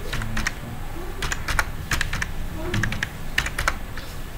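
Typing on a computer keyboard while filling in an online ration card application form: irregular clusters of crisp key clicks, close and moderately loud over a low background.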